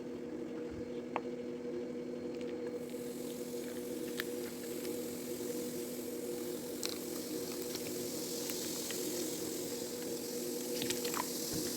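Baking soda and vinegar fizz steadily, with boiled water added, giving a continuous soft hiss and crackle of carbon dioxide bubbles, plus scattered small pops and clicks over a constant low hum.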